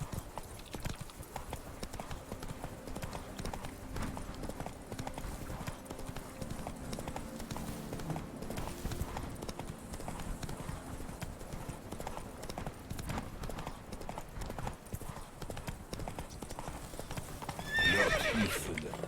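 Roach the horse in The Witcher 3 trotting with steady, continuous clip-clop hoofbeats, mid-loud and close, with a whinny in the mix and someone talking over it now and then.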